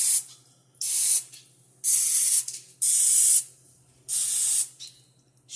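Cooking spray hissing into a muffin tray in five separate bursts of roughly half a second to a second each, close and clear, with quiet pauses between and a faint low hum underneath.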